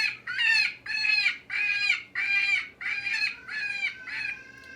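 Lucky Duck Roughneck electronic predator call playing a cottontail rabbit distress sound, a series of about seven loud, high, raspy squealing cries in steady rhythm, alone.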